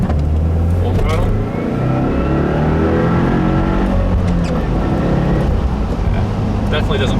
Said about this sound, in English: Do a medium second gear pull.